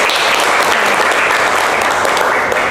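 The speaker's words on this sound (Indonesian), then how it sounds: "Tepuk tangan untuk Waude." A university class applauding a student, steady continuous clapping from many hands in a room, loud and close with no talk over it.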